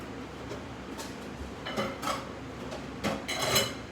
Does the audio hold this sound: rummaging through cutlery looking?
yes